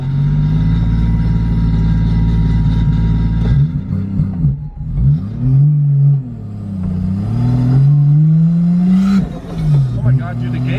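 Modified Nissan 370Z engine revving and accelerating on a drive around the block, loud and close, with deep rising and falling pitch sweeps as it shifts and pulls; people talk briefly over it.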